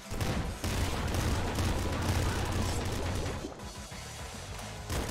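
Dense, continuous gunfire and explosions come from the Nuclear Throne video game, fired from a Hyper Gatling Bazooka. The barrage is loud and unbroken and eases slightly near the end.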